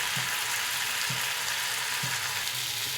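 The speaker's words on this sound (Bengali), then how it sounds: "এবার আমি খোলা আছে আর একটু নাড়াচাড়া করে ভেজে নেব, ভালো করে সবজিটাকে কষে নেব।" Vegetables with potato fry in an open pan for a lady finger fish curry, a steady close sizzle with three evenly spaced scraping stirs of the spatula, no voices.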